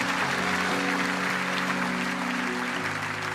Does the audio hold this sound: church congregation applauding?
yes